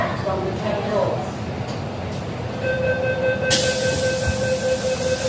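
Steady electronic warning tones from an MTR train in Hong Kong signal the doors closing, rising over rumbling carriage noise and station ambience, followed by a sharp burst of brighter noise near the end.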